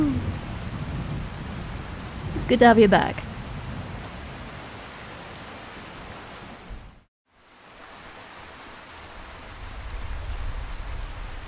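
Rain pours in Skyrim with a broad, steady hiss and low rumbles, briefly broken by a short spoken line, cutting out for a moment, then returning and swelling.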